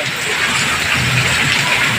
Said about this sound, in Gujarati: અહીંયા મહેસાણામાં વરસાદ ચાલુ થઈ ગયો છે